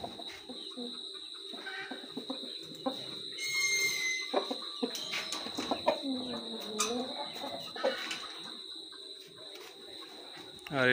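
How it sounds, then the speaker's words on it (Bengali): Aseel rooster and hens in wooden cages give off scattered clucks and coos at close range, mixed with soft shuffling and a faint voice now and then. "আর এটা অনেক ভালো মোরগ"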